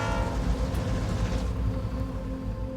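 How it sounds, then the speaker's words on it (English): A train draws near with a steady heavy rumble and a sustained horn tone, the rail noise loud and continuous throughout without any speech. "Oh, we got a train getting close here."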